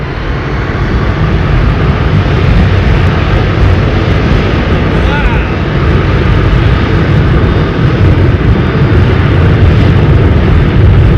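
Loud, steady roar of a jet airliner at London Heathrow Airport, likely a Boeing 777-200 with Rolls-Royce Trent engines, sustained and close throughout with broadband rumble, a voice faintly talking underneath.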